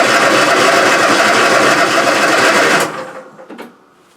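An MTD Gold lawn tractor engine running with the choke on, a loud, close, buzzy idle that cuts out abruptly near the end, leaving a few faint clanks.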